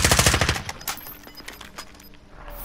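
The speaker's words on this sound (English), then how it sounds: "Oh, he's shooting me." Rapid automatic gunfire rattles loudly in a battle royale video game, a fast burst of shots at the start followed by scattered single shots and fading echoes.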